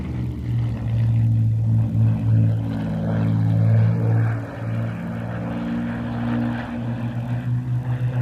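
A Spitfire fighter, a 1944 Mark 11 PL 983 kept largely original, flies at an airshow with its propeller engine droning steadily at a moderate distance, the tone swelling and easing slightly as it passes.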